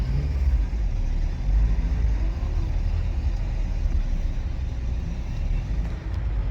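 A project Honda Civic with a manual gearbox drives on a test run, heard from inside as a steady low engine and road rumble at constant level, with no talk.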